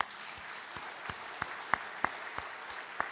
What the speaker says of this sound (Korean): 박수 한번 해드립시다.